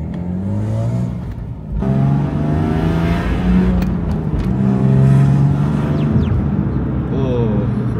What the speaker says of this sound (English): You guys can hear that manifold.